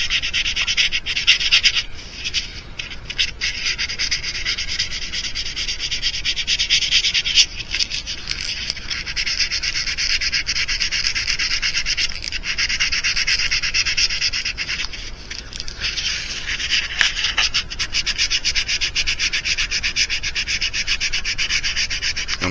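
Steady abrasive rubbing of sandpaper smoothing a custom mouse-shaped fishing lure, continuous close scratching strokes with brief pauses, no talk.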